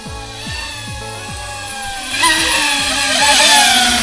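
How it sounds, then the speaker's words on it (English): A DJI Avata 2 drone whirs steadily as it flies back toward its home point, its motors giving a sustained buzzing hum that rises in pitch and grows louder partway through, with no talk. "Just whirring our way back to"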